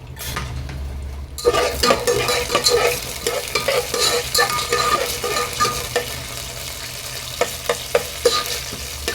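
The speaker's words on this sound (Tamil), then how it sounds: "எண்ணெய் சூடானதும் கொஞ்சமாக கடலைப்பருப்பு போட்டுக்கலாம்." Chana dal dropped into hot oil in a pan for lemon rice crackles into a busy sizzle after a quiet start, with spoon stirring and scraping against the pan up close and no talking.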